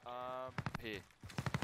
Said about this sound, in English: there's gunshots coming from fire station